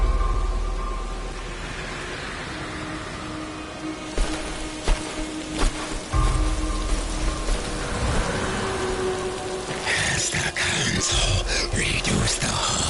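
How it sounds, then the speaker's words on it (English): Steady rain hiss in the Darksiders Warmastered video game, falling in a high area, with sharp transient hits and a brighter burst near the end layered over the constant wash. "like on the ground level, it just rains up here."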